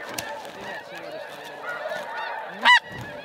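Snow geese honk over flooded sheet water, with a mix of distant calls in the background and then one loud, close honk near the end.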